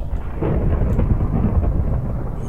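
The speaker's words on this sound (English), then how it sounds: "This is a crazy storm." Thunderstorm in the Minecraft video game: a loud, continuous rolling rumble of thunder with rain hiss, heard alone without voices.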